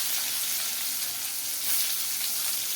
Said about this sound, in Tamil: கடாயில எண்ணெய் ஊற்றி இருக்கிறேன், கொஞ்சம் கடுகு போட்டுக்கலாம்